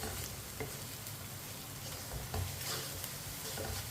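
Spices frying in a pan for onion curry, a steady close sizzle with soft stirring scrapes and a few light clicks throughout, without any talk.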